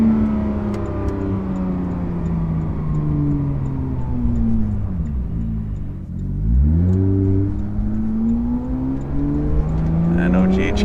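A Porsche GT3 RS fitted with an AWE exhaust, heard from inside the cabin, revs up through the gears with rising and falling engine tones, a brief lift around a shift, then climbs again, loud and close.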